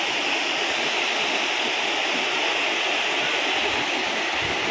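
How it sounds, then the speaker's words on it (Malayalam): Vadattupara waterfall in Kothamangalam pours down over rocks in a steady, loud, continuous roaring rush of water, close by and unbroken, with no voices. "വെള്ളച്ചാട്ടം ഇങ്ങനെ ഒഴുകുകയാണ് അവിടുന്ന് താഴത്തോട്ട്"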